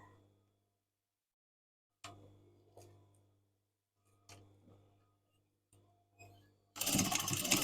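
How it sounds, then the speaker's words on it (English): A sewing machine stitches down the corners of a lined curtain in short bursts, each with a low motor hum and needle ticking, separated by quiet pauses, before a loud rushing burst at the end. "I'm just going to stitch these two corners down"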